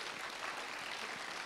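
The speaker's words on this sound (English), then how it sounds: "Give them a round of applause, if you would." Audience applause welcoming two guests on stage, a soft, even patter of many hands clapping at a distance, steady and faint throughout.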